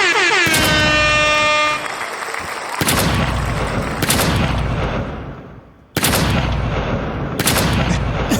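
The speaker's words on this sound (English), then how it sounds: "Your podcast start off with 10 gunshots." A blaring air horn opens, followed by a series of loud, booming gunshot blasts spaced a second or two apart, each with a long echoing tail.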